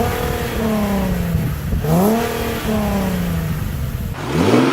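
Nissan 370Z Nismo engine revs repeatedly, pitch climbing in several smooth sweeps, dropping back between pulls, and rising again at the close, loud and close with no talk.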